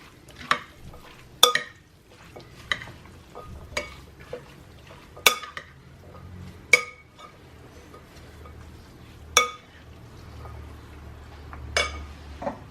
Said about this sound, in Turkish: Şimdi karıştırmaya başlıyorum.